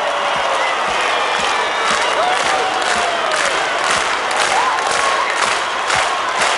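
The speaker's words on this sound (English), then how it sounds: "And clap with me, come on." A concert crowd cheering and clapping in a steady rhythm, loud and continuous, with whoops and shouts layered over the beat.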